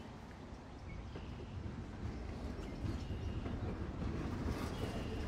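In the video game Life is Strange: Out of Time, a train rumbles past on the railroad tracks in a dense, steady roar that swells slightly as it goes by, with no talk over it.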